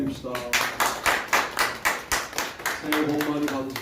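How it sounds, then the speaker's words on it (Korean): A church congregation at a New Year service bursts into rhythmic, steady clapping, a dense run of regular claps close by with some voices mixed in. "우리 하나님께 영광의 박수 올려드립시다."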